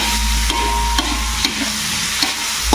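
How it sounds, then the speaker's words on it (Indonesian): Shallots, tomato and chili sauté in a pan with a constant loud sizzle, broken by regular scrapes of a spatula about every half second. "Jadi ini semua bahan kita tumis dulu"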